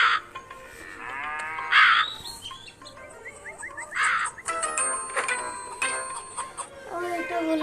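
Cartoon crows caw in short bursts in the Meena mobile video game, with a few chiming game tones and harmonic character calls between the caws.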